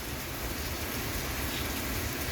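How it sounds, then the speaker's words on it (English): Heavy rain pouring steadily, a dense, even hiss with no breaks, close and loud throughout. "it's raining. It's raining pretty hard."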